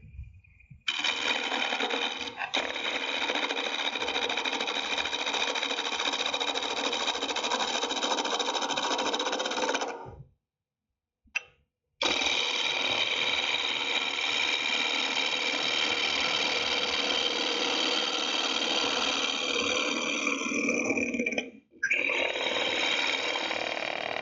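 A turning tool rattles against an out-of-round wooden spatula blank spinning on a wood lathe, a steady close chattering buzz that runs continuously, breaks off briefly near the middle, then resumes alone.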